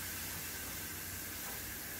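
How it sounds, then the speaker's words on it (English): Pork chops sear in a hot skillet, a steady broadband sizzling hiss that holds constant and dense throughout, close and unbroken, with no talk over it. "I'm going to sear the pork chops on both sides. So I'm just going to lay them in the skillet"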